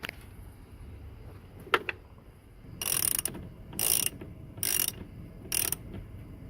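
A hand ratchet tightens a bolt during a steering wheel swap on a 2017 Subaru, heard as quiet clicks followed by four distinct bursts of rapid ratcheting, each about half a second long, separated by brief pauses.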